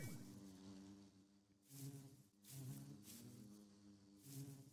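Bees buzzing in the Minecraft modpack ATM7 Skyblock, including a uranium bee, a steady droning hum that swells and fades in several close, loud pulses with no talk.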